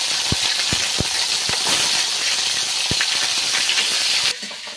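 Already-fried fish goes back into a pan of hot oil for a second frying, giving a loud, dense hiss and sizzle with a few low knocks before it suddenly drops away.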